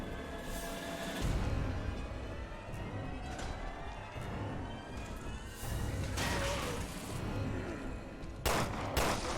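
Gunfire rings out in the game Resident Evil Revelations 2 as several sharp bursts of shots over a low game-ambience rumble, some shots louder and more sudden than others.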